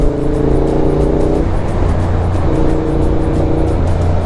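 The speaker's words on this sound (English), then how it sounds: "So many cars." Dense road traffic rolls past on a busy London street, a steady loud wash of engine and tyre noise with low droning tones that rise and fall as vehicles go by, no voices.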